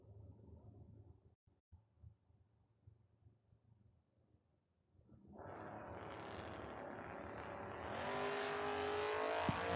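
Drag racing Camaro and Mustang at the Independence Showdown: a faint rumble, then a loud surge of engine roar after a few seconds that swells further as the cars accelerate hard down the strip.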